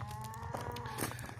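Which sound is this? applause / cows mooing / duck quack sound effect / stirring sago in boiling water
cows mooing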